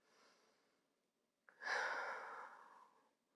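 A soft audible breath during prenatal yoga: a faint inhale, a short pause, then a longer, fuller exhale that fades out, close and quiet in a calm room.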